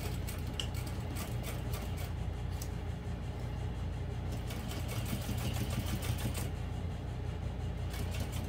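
A sewing machine runs steadily, stitching a seam on a small knapsack of vinyl and waterproof canvas, with a quiet, fast, even mechanical chatter throughout.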